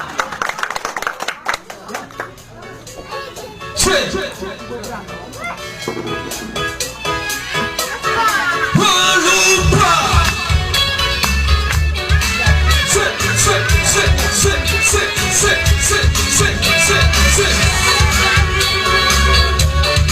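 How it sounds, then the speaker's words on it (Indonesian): Applause and cheering from a crowd at a live concert build from scattered clapping into a dense, sustained roar, with an announcer's amplified voice and music mixed in. "Tepuk tangan yang meriah nih yang semangat."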